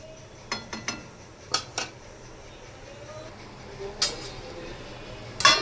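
Metal lid set on a pot of simmering vegetable curry in a home kitchen: a few light clinks and clatters of cookware over a low background hum, with a sharper clank near the end.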